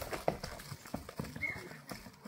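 Hooves of a grey horse clip-clop on the ground at a village horse market, a few sharp, close strikes in an uneven walking rhythm, with faint background noise.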